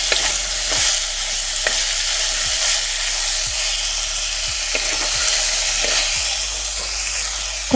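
Green chillies and tomatoes fry in a pan with white sesame seeds, a steady loud sizzle punctuated by several sharp scraping stirs, close up with no voices.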